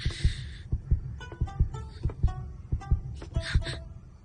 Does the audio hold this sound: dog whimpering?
no